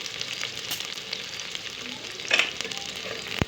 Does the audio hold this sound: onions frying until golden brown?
yes